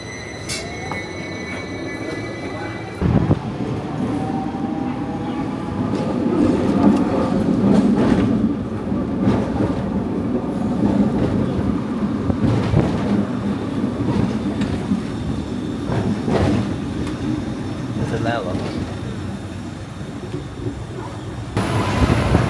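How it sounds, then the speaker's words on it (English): A Hong Kong street tram rolls past with rumbling wheels, rail squeals and clattering, steady and fairly close, with brief sharp knocks and city background around it. "Looks like the tram is stopping up there"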